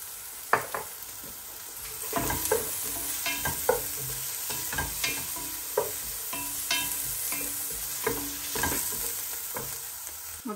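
Garlic sizzling and frying in a pan for wonton soup, with a continuous hiss broken by repeated scraping and stirring clicks of a utensil against the pan.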